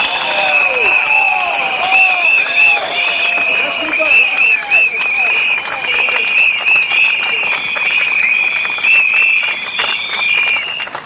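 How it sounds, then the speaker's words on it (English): A crowd at a political rally in Bukit Gombak Stadium claps and cheers continuously, a dense, sustained wash of applause with a voice ringing above it. "let's give him a round of applause again"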